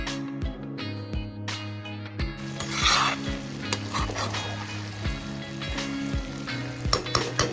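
Green chicken frying in an iron kadai, a steady close sizzle with intermittent scraping and stirring strokes against the metal pan, no voices.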